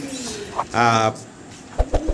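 A pigeon coos nearby, a soft throaty burble, with a few short rustling sounds and a brief voice around it.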